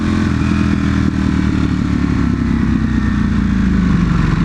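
Enduro dirt bikes riding past on a road, a loud, continuous engine drone that sounds close and steady for the whole stretch, with a mechanical rattle and no talking.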